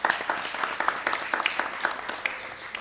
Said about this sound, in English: We have a round of applause for all the parents.